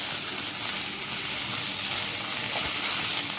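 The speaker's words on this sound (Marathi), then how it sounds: "आता आपल्या एका साईडला मच्छी पण मस्तपैकी फ्राय झालेली आहे" Fish fries in a pan with kokum in a Marathi-style green masala curry, giving a steady, close hiss of oil sizzling with a faint watery bubbling underneath, continuous and unbroken throughout.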